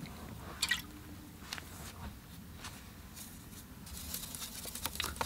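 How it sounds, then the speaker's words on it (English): Watercolor paint flicked onto paper as sand speckles, faint quick wet squishes and taps, a few scattered spatters then a denser burst near the end, quiet and close. "taking some of this splash on there"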